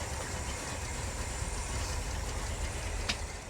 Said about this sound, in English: It's got that nice throaty sound. Sounds great under the hood.